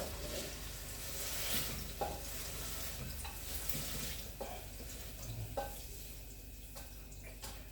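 Krecek skin crackers fry in hot oil with a steady close sizzle and crackle, while a utensil stirs and scrapes the pan now and then.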